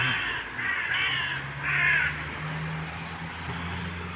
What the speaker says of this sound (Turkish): Kargaya bir şey attın fakat kedi var, kedi var diye bağırıyor.